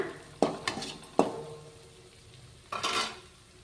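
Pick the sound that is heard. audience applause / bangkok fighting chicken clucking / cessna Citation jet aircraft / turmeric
turmeric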